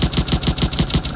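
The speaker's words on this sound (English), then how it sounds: "when I hit the tank with the machine gun" Rapid machine gun fire from a weapon in an Unreal Engine 5 game scene, about eight evenly spaced loud bursts in a little over a second with no pauses between them.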